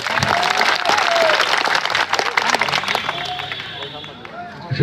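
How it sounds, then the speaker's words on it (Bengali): A crowd at an outdoor election street meeting for a mayoral candidate bursts into brief applause, with clapping mixed with babble and a voice talking over it before the noise thins out. "ওনার জন্য একটা করতালি হোক"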